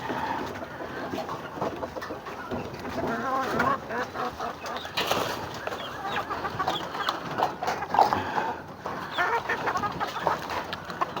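Several chickens cluck and call near the listener from a coop, a busy irregular chatter of fowl over ambient outdoor noise.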